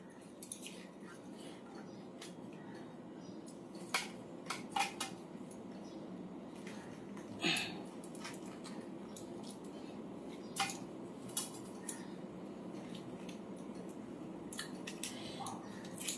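Ripe mango pieces tumble into a blender jar for a mango-semolina malpua batter, giving soft scattered clinks and light thuds spread over a quiet kitchen background.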